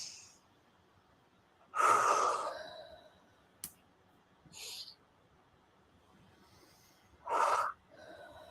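A group inhales and exhales together in a guided breathing exercise during an online conference, with two broad breathy swells of breath and a short soft one between, separated by near silence.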